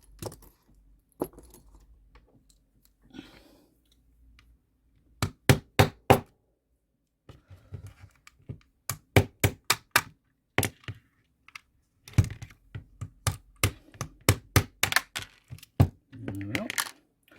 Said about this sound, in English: there's a pin that you'd hammer out there